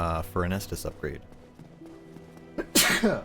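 A single sharp sneeze bursts out near the end, just after someone speaks briefly over quiet game sound.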